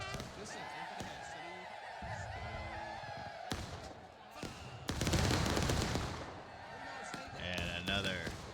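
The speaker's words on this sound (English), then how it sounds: "And another very decent volley coming out." Musket volleys fired by Civil War reenactors at a battle reenactment, with a loud burst of gunfire near the middle and sharp reports that stand out from ongoing crowd and voice noise outdoors.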